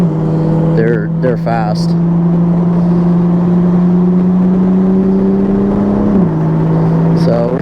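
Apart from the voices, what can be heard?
Mazda Miatas passing the Toyota A90 Supra on track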